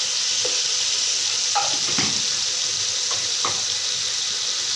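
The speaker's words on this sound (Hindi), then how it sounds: "सारे मसाले भून चुके हैं।" Spices roasting in a pan for white chickpea curry, a constant dense sizzle throughout with a few soft stirring scrapes and clicks, close and fairly loud.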